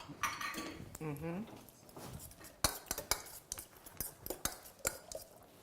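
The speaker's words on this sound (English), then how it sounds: "And then we take the fork and mix that around" A fork mixing orange juice with other ingredients in a bowl, a run of sharp clinks and scrapes against the dish, close and uneven, with a person talking in the opening seconds.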